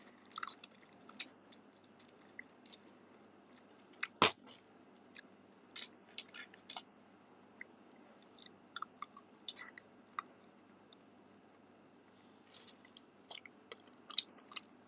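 A woman eats rice and other food on a livestream, with soft, intermittent chewing and wet clicking mouth noises close to the microphone, including one sharper bite, scattered over a quiet background and no talking.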